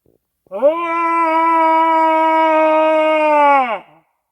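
A person imitates a howl with one long, steady, loud wail held for about three seconds before sliding down and stopping.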